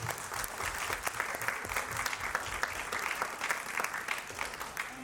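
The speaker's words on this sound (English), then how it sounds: "let's give a round of applause for our 12 phenomenal men of faith" A church audience applauds steadily for twelve men being honored at a book launch, a dense, even wash of clapping held at moderate level throughout.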